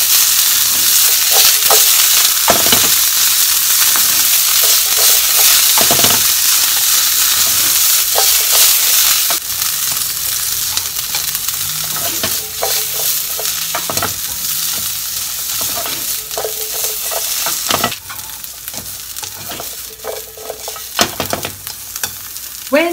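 Bamboo shoots stir-fry in a pan, a steady loud sizzle broken by repeated scraping stirs at irregular intervals, with no speech.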